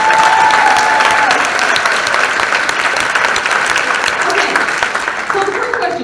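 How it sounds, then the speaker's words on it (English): An audience at the Keto PaLouZa 2023 event breaks into loud, sustained applause, a dense wash of clapping from a large crowd that carries on throughout. "So give yourselves a round of applause."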